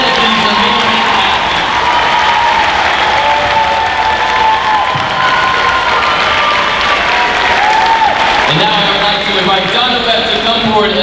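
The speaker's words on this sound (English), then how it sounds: "Let's give one more big round of applause to all of these amazing athletes." Large crowd at a summer games opening ceremony applauding athletes in a loud, sustained wash of clapping, with cheering voices and an announcer speaking over it.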